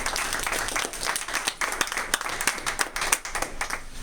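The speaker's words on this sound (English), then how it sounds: "Brother Randolph, let's give him a round of applause." Audience at a Harrisburg Million Man March 2015 gathering applauds a fraternity representative, dense continuous clapping holding steady for about four seconds with a few louder bursts.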